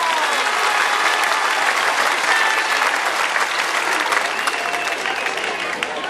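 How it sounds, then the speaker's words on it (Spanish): A crowd at a political victory speech in Zaachila breaks into thick, continuous applause, loud and unbroken across the whole stretch, with faint voices mixed into the clapping. "También merecen un aplauso"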